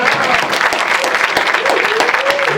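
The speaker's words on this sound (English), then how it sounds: "Level 5 applause." Loud, close applause from a comedy improv show audience, a vigorous mid-level burst of dense clapping with some voices calling out underneath.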